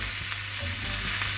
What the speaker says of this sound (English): I'm just gonna put them in the frying pan and just give them a little saute,